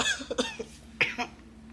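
A few short, harsh coughs close by, coming in quick bursts with quiet pauses between them.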